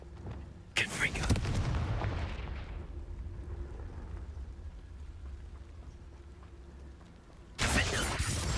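A Confringo fire spell bursts in Hogwarts Legacy with a loud explosive crack, then rumbles and crackles as it fades over several seconds, and a second sharp blast hits near the end.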